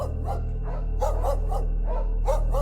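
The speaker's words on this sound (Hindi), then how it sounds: "बहुत सारे डॉग्स के भौंकने की आवाज से जाग गया" Several dogs barking repeatedly in quick, overlapping bursts over a low steady hum, fairly close.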